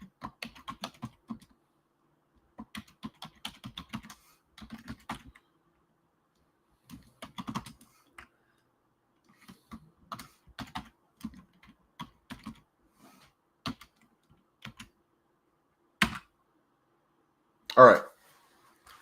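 Slow typing on a computer keyboard comes as sparse clusters of soft key clicks with pauses between bursts, close and quiet, ending in a couple of louder taps.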